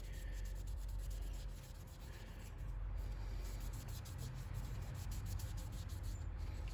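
Steady close rubbing of a cloth or fingers working dye finish onto an antler knife handle, a continuous soft scuffing texture with no voices.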